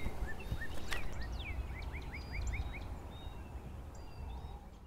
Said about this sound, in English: This sly, lovesick gobbler tried sneaking in.